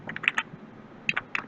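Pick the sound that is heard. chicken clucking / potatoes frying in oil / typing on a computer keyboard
typing on a computer keyboard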